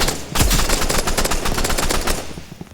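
Rapid automatic gunfire in the video game Rivals, a loud dense burst of shots fired in quick succession for over two seconds before trailing off.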